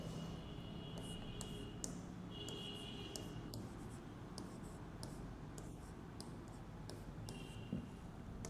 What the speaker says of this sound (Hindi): चलिए मैं क्वेश्चन लिख लेता हूँ।